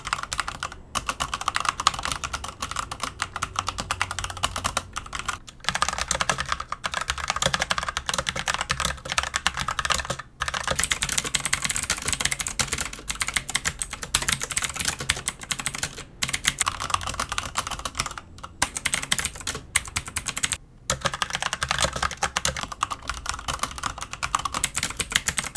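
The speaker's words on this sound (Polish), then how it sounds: "sami sprawdźcie, jak one brzmią na tle klawiatury z brązowymi i niebieskimi przełącznikami" Steady, fast typing on a CoolerMaster MK850 mechanical keyboard, with dense clicky keystrokes throughout and a few brief pauses, heard close and alone.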